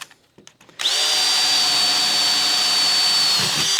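A power drill with a dull bit bores into steel roofing, starting after a few faint knocks with a loud, sustained high-pitched whine and grinding that holds steady for about three seconds.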